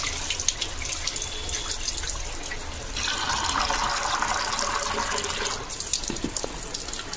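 Gas stove parts being washed under a running tap at an outdoor washing spot, water streaming steadily and splashing louder for a few seconds in the middle, with no voices.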